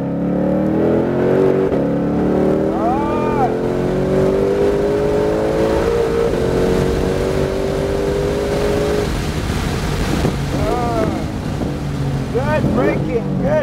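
A Shelby GT500 drives hard around Pocono Raceway, its engine roaring loud and close throughout, with the pitch climbing and dropping through gear changes and a few sharp revving sweeps near the end.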